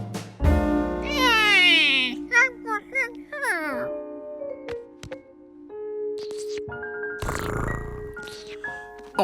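Cartoon cat Gnocchi meowing in an animated children's show: a long drawn-out meow sliding up and down, followed by shorter chirping mews and a falling whine, loud and close with musical tones behind.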